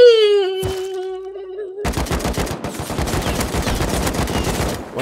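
AK rifle fire in the survival game Rust comes as a long run of sharp, rapid, loud shots after a wavering moan and a single crack, with no talking.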